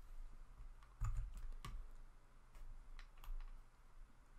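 Several sharp computer mouse clicks, close and fairly quiet, spaced irregularly over a few seconds while cells are selected and merged in a spreadsheet.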